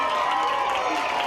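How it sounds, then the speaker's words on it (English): Brief burst of applause and cheering from a school audience after a fourth grade performance, dense and lively, with crowd voices mixed in. "let's give a big round of applause to fourth grade"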